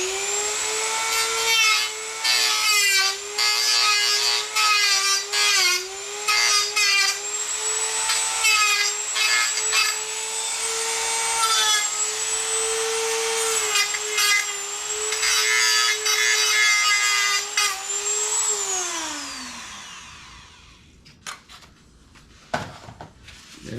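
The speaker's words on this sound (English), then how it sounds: "Or you can just sand it down a little bit." Kevlar being sanded down on a JetScout model jet: a loud, close, continuous abrasive whine with a steady pitch, fluctuating slightly in strokes, then winding down and trailing off into quiet handling noises near the end.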